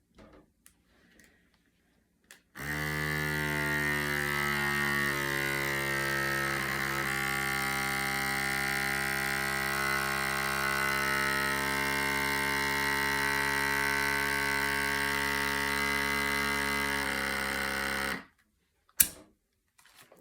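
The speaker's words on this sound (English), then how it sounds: "So I bet it's sealed because when you hear that suction and then when you listen and the the sound changes." A rechargeable vacuum sealer runs alone with a steady buzzing pump hum for about fifteen seconds, starting abruptly and cutting off, followed by a short click.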